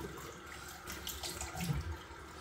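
Tap water runs quietly into a sink while a razor is rinsed during a wet shave, a soft, continuous splashing hiss with some low gurgles.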